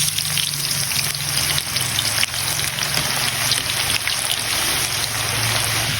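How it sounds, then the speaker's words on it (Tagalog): Steady, loud sizzling and crackling of saba plantains and potatoes frying in hot oil, continuous throughout with no talking. "prito muna natin ang saging saba at patatas"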